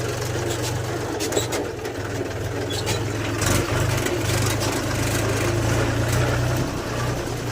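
A tractor's diesel engine rumbles steadily and loudly throughout on a farm, with a deep low drone and occasional surges, close by and without talk.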